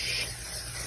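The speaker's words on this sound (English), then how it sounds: "non-stick cooking spray." Non-stick cooking spray hisses from a can onto a pan in one short, steady burst up close.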